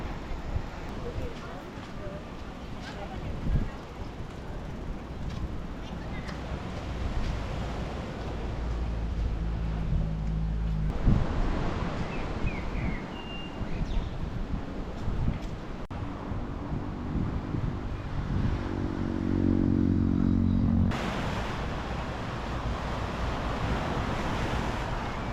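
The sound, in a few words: waves and wind on the beach at La Cala, Malaga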